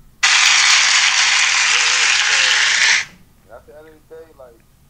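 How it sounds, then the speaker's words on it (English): Canned audience applause plays loudly on a podcast for about three seconds, a dense uniform hiss of clapping that cuts off abruptly, followed by someone talking. "applause for that one"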